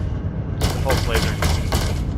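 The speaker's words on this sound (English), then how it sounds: "Pulse laser." Pulse laser weapon firing in the space game Elite Dangerous, a handful of sharp bursts in a loose rhythm over a steady low ship rumble, close and fairly loud.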